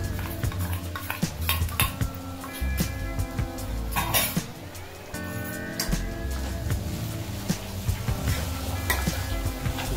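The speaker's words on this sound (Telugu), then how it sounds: "ఈ ఆకాకరకాయలకి ఈ పొడి అంతా బాగా కలిసే విధంగా తిప్పుకోవాలి." Bitter gourd fry being stirred in a pan with a powder of peanuts, dried red chilies, cumin and garlic, giving a steady busy clatter of a spoon scraping and knocking against the metal, with a faint sizzle underneath.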